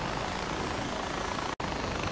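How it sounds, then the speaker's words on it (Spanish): Steady, loud rotor and engine drone of a helicopter in flight in the video game Far Cry 4, continuous and close, with a momentary cutout near the end; no speech. "Voy en helicóptero, así que no voy por el camino, voy directamente hacia allá."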